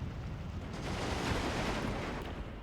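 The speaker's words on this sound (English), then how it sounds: "And there's his artillery." Artillery in the Steel Division 2 wargame: a low, rumbling barrage of distant blasts blending into a sustained roar that swells in the middle and fades, heard alone without talk.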